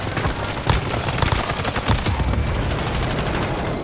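Rapid gunfire crackles in Warzone battle royale, dense overlapping bursts of automatic shots, loud and close, fading into a rumbling tail toward the end.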